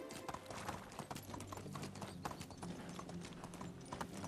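Horse hooves galloping in the medieval survival game Medieval Dynasty, a steady, fast clip-clop rhythm running continuously at close range and fairly loud, with no talk over it.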